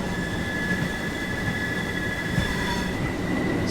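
A British boat train departing in a railway simulation game on the line to Newhaven Harbour, a steady rumbling rolling noise with high sustained wheel squeal tones running throughout, near and continuous with no talking.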